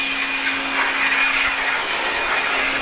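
An air blower sends a constant whooshing hiss and a steady whine across the engine bay of a Nissan Navara. The blast runs close and loud without pause, and no one speaks.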